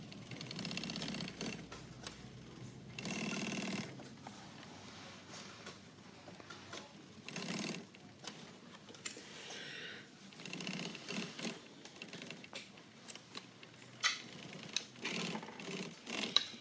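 A sewing machine runs a seam across the top flap of a fabric piece, humming in short bursts and longer runs with pauses between, soft and close, with small handling clicks near the end.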